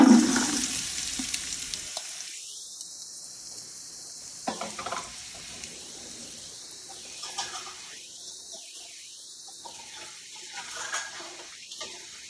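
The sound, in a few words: onion, celery and carrots sizzling in olive oil in soup pot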